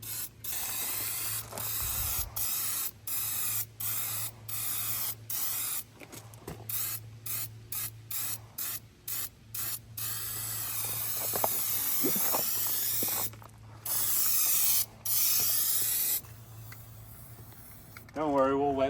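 Turbo aerosol spray cans hiss onto a bullnose Ford F150 in a long run of short bursts with brief gaps, then a few longer sprays, close and fairly loud, with some clicking in between.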